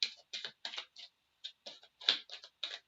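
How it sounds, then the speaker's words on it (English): Tarot cards being shuffled during an intuitive reading, a quick series of crisp flicking, riffling bursts in a steady rhythm, close and fairly quiet, with no talking. "One last shuffle."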